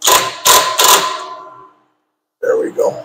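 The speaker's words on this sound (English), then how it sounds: "I'm going to get the clutch alignment tool in here. I'm going to wiggle it around a little bit." A clutch alignment tool is worked around inside the clutch of a 1925 Maxwell during ring gear replacement, giving three quick metallic clanks followed by a pause and then a couple of softer knocks, all close and fairly loud.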